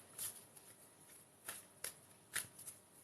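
Angel oracle cards are handled and shuffled in a quiet room, with a few soft papery riffles and flicks spaced irregularly, faint and close.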